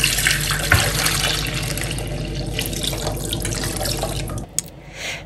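Tap water pouring steadily into a pot of eggs for boiling, a close, continuous rushing splash that cuts off near the end, followed by a few drips; no talking.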